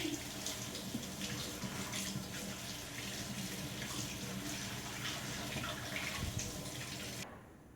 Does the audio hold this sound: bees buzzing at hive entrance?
no